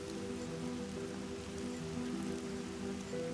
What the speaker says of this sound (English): before any water can be collected, the rain stops